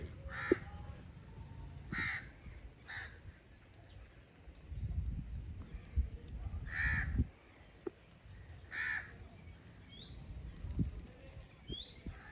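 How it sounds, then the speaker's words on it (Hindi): Crows caw repeatedly outside a house in a Pakistani village, several harsh calls spaced a second or two apart at moderate distance, with faint chirps and low background rumble between them. "आज फिर हमारी मेहमान चिड़िया हमें इस साइड से आवाज़ें दे रही हैं।"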